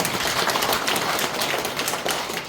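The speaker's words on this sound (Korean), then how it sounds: "박수 한번 주시기 바랍니다" A crowd at a legislator's community report meeting held at a Jeongseon farmers' cooperative gives a dense round of clapping, continuous and fairly loud for the whole stretch.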